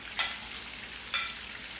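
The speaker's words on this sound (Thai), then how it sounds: "เวลาทอดถ้าเป็นไปได้นะครับ คนเรื่อยๆ แบบนี้ก็ดีนะครับ" Pork strips fry in hot oil over high heat, a continuous sizzle broken by two sharp bursts of crackling as the pieces are stirred.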